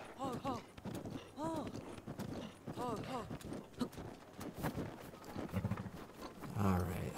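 Horse hooves clip-clop in Zelda: Breath of the Wild on Hebra Mountain, a steady rhythmic trot of repeated hoofbeats beside wind noise, with a voice talking over it.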